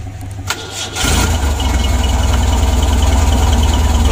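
A car engine on a jump-started battery, with the throttle pumped, cranks briefly, then catches and settles into a loud, close, steady idle that holds to the end.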